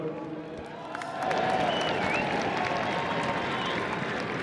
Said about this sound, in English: can we have a round of applause for Galway?